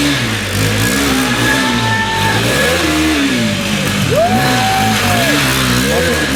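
A KTM 390 motorcycle engine revs hard and near, its pitch rising and falling in repeated sweeps as the throttle opens and closes, loud and continuous.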